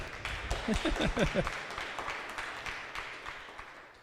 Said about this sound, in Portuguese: Você pode aplaudir Jesus pela vida do pastor Wilson aí?